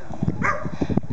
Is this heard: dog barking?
yes